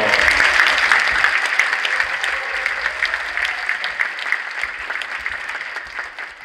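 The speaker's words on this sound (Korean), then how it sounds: "떨지 않도록 큰 박수로 환영해 주십시오" Big round of applause from the audience at a multicultural migrants' choir competition in Korea, welcoming the announcer to the stage; dense steady clapping, loud and close, slowly tapering off.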